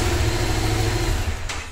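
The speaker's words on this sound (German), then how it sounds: "Motorrad starten" A motorcycle engine idles steadily and close up at a driving school, with a low, even rumble running throughout and a brief hissy burst near the end.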